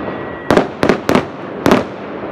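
Four loud firework blasts burst in an irregular sequence over a steady outdoor hiss, each sharp crack trailing off briefly, set off during 23 April celebrations in Turkey.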